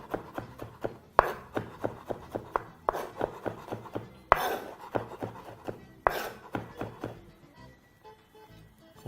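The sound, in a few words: knife roughly chopping vegetables on a board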